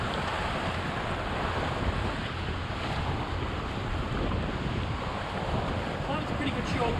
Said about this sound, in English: the wind picked right up then